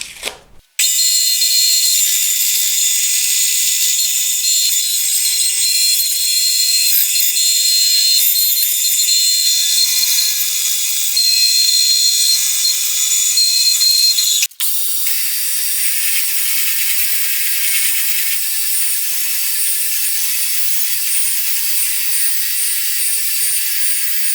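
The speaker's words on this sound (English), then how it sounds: "get this to the bandsaw and trimmed out to shape" A bandsaw trims a guitar top to shape with a loud, continuous high whine that runs for over twenty seconds, broken by a brief dip midway.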